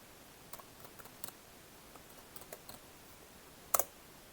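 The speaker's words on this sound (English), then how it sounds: "move to the data folder by typing the following command" Sparse keystrokes on a computer keyboard while a terminal command is entered in a quiet room, a dozen or so light clicks in an uneven rhythm ending with one sharper, louder key press.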